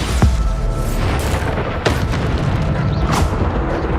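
Bombarda spell explosions in the Hogwarts Legacy video game, loud booming blasts with sharp bursts over dense, continuous battle noise and no talking.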